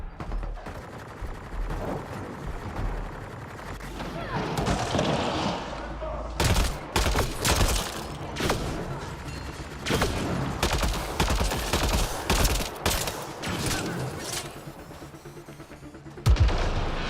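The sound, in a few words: gunfire in the video game Mass Effect: Andromeda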